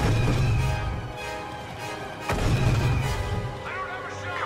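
Heavy weapon fire aimed at a targeting dish in a sci-fi video game, rolling as repeated deep booming blasts, with one sharp impact midway, under ongoing game dialogue.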